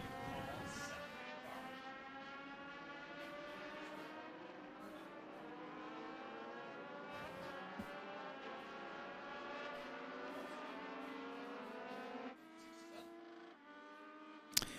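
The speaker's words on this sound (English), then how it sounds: "Such a cool sound to listen to those cars." Several Legend race cars circle a road course at New Hampshire Motor Speedway, their overlapping engine drones rising and falling steadily in pitch at a moderate distance, fading slightly near the end.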